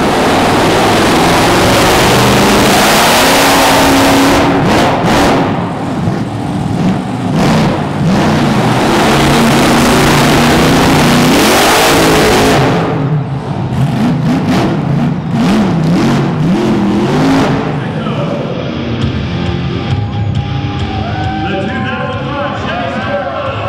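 USA1 monster truck at a Monster X Tour arena event in Augusta, Georgia, with a loud engine roaring and revving in repeated surges over crowd noise, fading toward the end.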